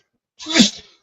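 A single sharp sneeze, close and loud, bursting out suddenly and fading within half a second.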